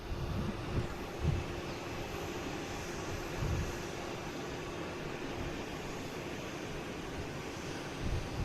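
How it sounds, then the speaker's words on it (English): The jet engines of a United Airlines Boeing 737-900 give a steady, broad roar with a faint whine, heard from a distance and holding evenly with small swells in loudness. "I love the wails, the screaming of the engines."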